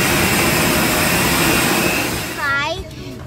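Jet engine roar inside an airplane cabin, a loud, steady broadband rush that fades near the end as a voice briefly speaks over it.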